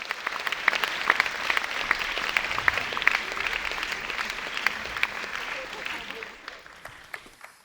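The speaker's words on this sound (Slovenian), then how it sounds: "Z aplavzom povabimo na oder našega naslednjega gosta" Dense audience applause at a talk welcomes Dr. Urban Kordeš onto the stage; many hands clap steadily for several seconds, then thin out and fade near the end.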